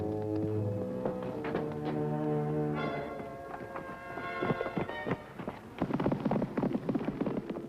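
Horse hooves clip-clop in an uneven, quickening patter as a rider makes a getaway from a ranch corral, the horse freshly shod, starting under sustained orchestral music and growing louder and busier toward the end.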